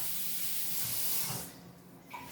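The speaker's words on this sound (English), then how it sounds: "Rinse them, get all that dirt off." Tap water runs and sprays over spaghetti squashes as they are rinsed clean of dirt: a steady, close hiss that fades partway through, leaving a quieter trickle.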